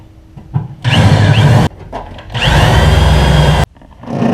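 A power drill with a 9/16-inch bit bores through material in two sustained bursts, a loud whining grind for about a second, a pause, then a longer second run.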